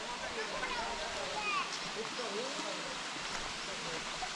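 Kankan waterfall in Bandarban roars in a steady, even rush of falling water that fills the whole scene, with faint voices or calls drifting over it.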